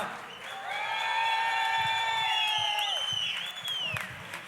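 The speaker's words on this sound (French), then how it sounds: "Un tonnerre d'applaudissements pour Christian et Valérie à la vidéo." Concert audience at a showcase in Perpignan breaks into sustained applause, with steady bright tones ringing above the clapping before both fade after a few seconds.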